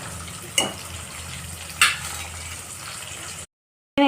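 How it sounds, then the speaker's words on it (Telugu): Onions frying in a pan for sambar, a steady close sizzle with two sharp clinks of a utensil against the pan, ending in a short silence. "ఆనియన్ అనేది యాడ్ చేసుకొని బాగా ఫ్రై చేసుకోండి"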